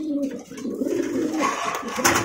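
Caged pigeons coo close by, a few low, rounded throaty calls in quick succession against a busy background.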